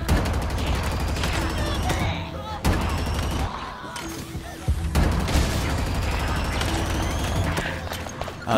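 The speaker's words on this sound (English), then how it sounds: "We got the plasma cannon, let's see how that works out" Plasma cannon fire in Halo Infinite: repeated heavy bursts of rapid weapon fire with booming impacts and mechanical clatter, loud and continuous with brief gaps, under game speech.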